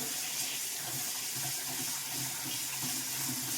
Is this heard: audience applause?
no